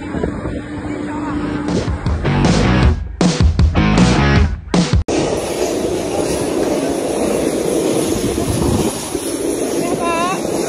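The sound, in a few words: Hercules military transport aircraft engines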